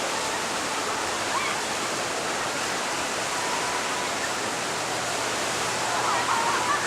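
Water rushes steadily through the Thunder River rapids ride at Six Flags St. Louis, a loud, continuous broadband roar with no breaks, heard close by and alone.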